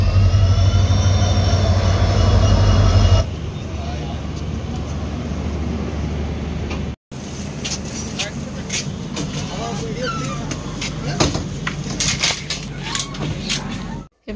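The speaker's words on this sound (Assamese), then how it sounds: "এই আহি গল আমাৰ হামসফৰ ট্ৰেইন" The Humsafar Express pulls into a station with a heavy, steady low rumble that then gives way to busy platform noise, with people talking over the clatter.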